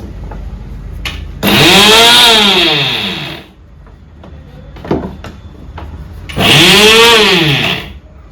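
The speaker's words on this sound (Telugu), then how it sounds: "ఇప్పుడు కరివేపాకు అలాగే మునగాకు పొడి కొట్టేసుకుందాం" Mixer grinder powdering curry leaves and drumstick leaves, two loud whining bursts of the motor spinning up and winding down, close by, with a pause and a clunk between runs.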